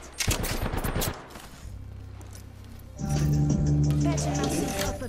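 Shotgun blasts ring out in the Apex Legends video game, a few sharp, loud bursts early on followed by heavier firing and game noise, with players talking over the action.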